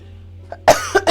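A person coughs in a short burst of about three harsh coughs, close and fairly loud, right after finishing a cough drop, with quiet background hum before it.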